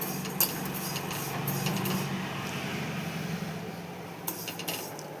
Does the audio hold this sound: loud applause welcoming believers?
no